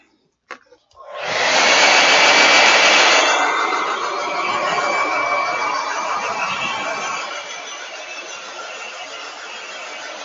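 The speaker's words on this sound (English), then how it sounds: "So I'm going to take this off the camera and blow dry it for just a second." A hair dryer starts after a brief click and blows a loud, steady whooshing roar with a faint whine to dry fresh paint, easing slightly and holding to the end.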